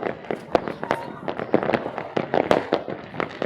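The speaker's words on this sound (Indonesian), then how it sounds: "Beraksi petasan" Firecrackers go off at New Year in a rapid, irregular string of sharp pops, some near and loud, with people talking and exclaiming over them.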